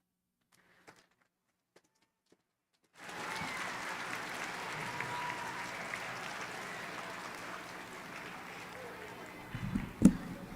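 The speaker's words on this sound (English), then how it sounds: "can I get another big round of applause?" After near silence with a few faint ticks, applause for veterans at a Veterans Day program suddenly erupts and holds steady, swelling toward the end with a sharp louder burst.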